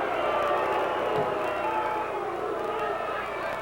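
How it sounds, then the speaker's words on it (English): Boxing crowd at a 1979 Las Vegas fight hooting and cheering in a steady, dense roar that fills the arena, with a commentator's voice faintly under the noise. "Crowd hooting a little bit as the referee gets involved here."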